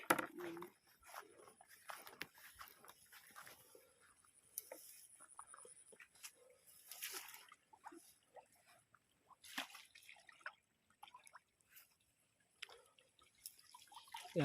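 Water flowing and dripping outdoors, with quiet scattered drips, trickles and small splashes coming in irregular bursts, faint and close, and occasional soft voices in the background.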